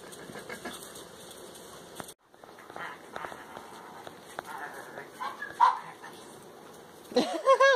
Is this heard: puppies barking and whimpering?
yes